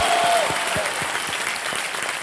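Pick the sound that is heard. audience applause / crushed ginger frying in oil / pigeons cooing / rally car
audience applause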